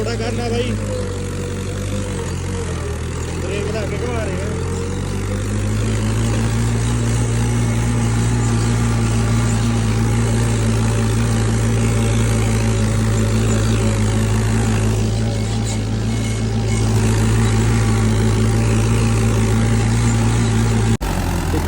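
A 2021 model 575 tractor engine runs loud and close, idling then revving up to a sustained higher drone around 1500 rpm, with a steady low harmonic hum; someone talks briefly over it.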